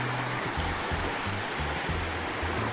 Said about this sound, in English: Some waterfall action for you.